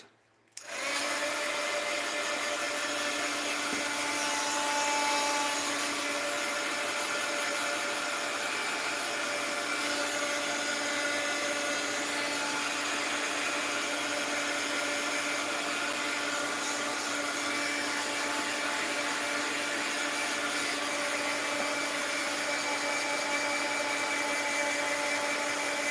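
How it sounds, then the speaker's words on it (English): Steady, loud whirring blast of a heat gun drying a mixed-media art journal page, running continuously and close up with no talk over it. "Heat gun alert!"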